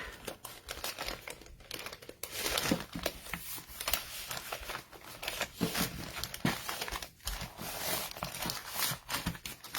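A paper or plastic bag crinkles and rustles continuously while paper and ribbon goods are packed, close and fairly loud with no talking.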